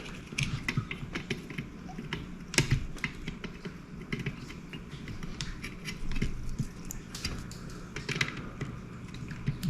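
Small side cutters snip the excess leads off an LED soldered to a circuit board, giving several sharp close clicks among quieter handling clatter and rustle.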